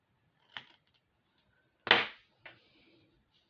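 Leather cord being cut with scissors, three separate crisp snips at close range, the middle one loudest, with quiet pauses between them.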